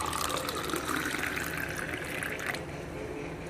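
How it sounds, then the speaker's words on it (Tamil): Freshly made amla (Indian gooseberry) juice is poured into a serving glass, a close, full splashing stream that runs steadily for a few seconds and then thins out. "இப்போ நம்ம எடுத்து வச்சுக்க ஜூஸை ஒரு சர்விங் கிளாஸில் எடுத்து ஊற்றிடலாம்."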